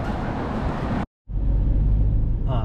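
Car driving back from the beach on a Sunday morning: a steady interior road rumble with broadband tyre noise, broken by a short full cut and then resuming with a heavier low drone.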